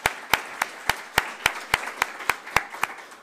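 A small audience at a tech summit claps in a slow, even rhythm, roughly three to four claps per second, fairly faint and distant, with no talking over it.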